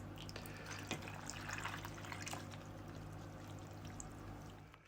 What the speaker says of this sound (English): I just decided I'm pouring this into that.